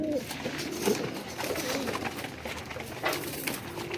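Pigeons cooing close by in a keeper's loft, soft throaty coos repeating over a steady background of rustling and bird noise, with no one talking.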